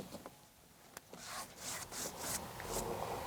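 A flat blade scraping old silicone residue off bathroom tiles, with repeated rasping strokes in an uneven rhythm, close up and fairly quiet, with no voices.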